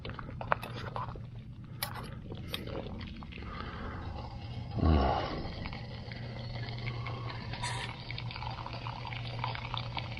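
Water boils in a pot with boil-in-bag rice at a campsite in a state park, giving a steady low bubbling hiss with a brief louder swirl midway, close and fairly quiet.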